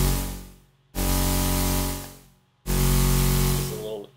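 Two bursts of harsh, buzzing synthesizer tone with ring modulation and a hissing white-noise layer, each starting abruptly and fading over about a second and a half.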